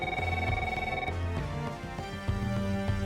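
A telephone rings in quick repeated electronic trills over a busy background, loud and close, with no talk.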